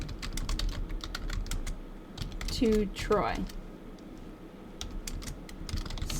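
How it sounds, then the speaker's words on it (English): Rapid keyboard typing on a computer, a steady run of light clicks with a brief spoken phrase partway through and a short tonal sound in the middle. "I'm really bad at typing today."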